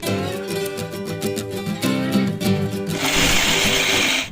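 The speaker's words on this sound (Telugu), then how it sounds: "మిసిరి గడ్డలు దంచి పెట్టుకున్నాం కదా ఇవన్నీ మిక్సీలో వేసుకొని పౌడర్ చేసుకోవాలి" A mixer grinder whirs steadily, its motor growling and rattling as it grinds pounded rock sugar crystals into powder, rising into a harsher, louder whine near the end.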